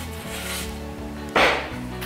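Dough for a sweet potato pie is rubbed and kneaded on a floured mat or tabletop, producing soft, close rubbing with one louder brushing push partway through, with no talking.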